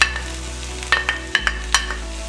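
Spinach and mixed vegetables stirred in a pan for a crustless vegan quiche, a few soft scraping stirs and light clatters over a faint sizzle, close and fairly quiet.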